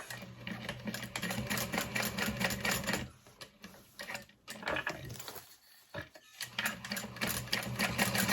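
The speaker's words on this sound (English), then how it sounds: "And then top stitch once more." A sewing machine top stitches a bag in rapid, close, mechanical bursts, pausing twice briefly before resuming its steady clatter.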